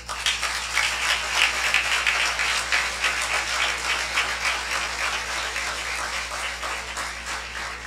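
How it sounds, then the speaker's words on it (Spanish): Audience applause at the opening ceremony of GUAIMUN 2015, dense continuous clapping from a large crowd heard at some distance, steady for the whole stretch over a low hum. "al cual también pido un gran aplauso"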